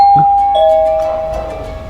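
A doorbell chimes once, with a clear ringing tone that rings on and slowly fades out.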